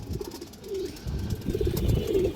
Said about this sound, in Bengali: এই যে দেখেন একদম ফুল ডাউন শেপের কবুতর, ছোট মনি।